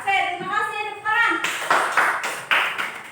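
Classroom of children clapping together on a teacher's cue, a few sharp rhythmic bursts of hand claps following a short stretch of speech.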